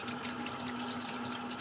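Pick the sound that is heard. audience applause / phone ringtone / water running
water running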